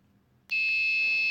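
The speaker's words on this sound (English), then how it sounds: "The buzzer started along with the LED lights" A home security system alarm buzzer, triggered after three wrong password entries, switches on abruptly. It holds a loud, steady, piercing electronic tone up close with no break.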